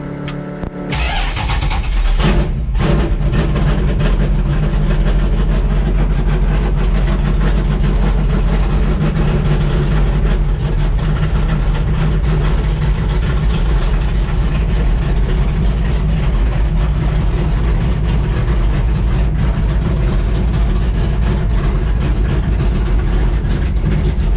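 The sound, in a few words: 1967 Dodge Dart engine running, moved out of garage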